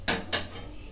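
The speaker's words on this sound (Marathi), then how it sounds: "आता प्लेटमध्ये काढून घेते" Chicken biryani is served from a pot onto a plate: two quick close metallic clinks of a serving spoon against cookware, then quiet.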